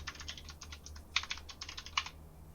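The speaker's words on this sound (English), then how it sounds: "I hear typing." Computer keyboard typing: rapid, uneven key clicks in quick bursts, quiet and somewhat distant, with no talk.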